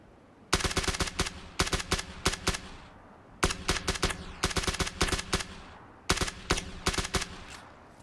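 Rapid bursts of gunfire in PUBG, three tight volleys of sharp shots separated by short pauses, loud and close with no talk.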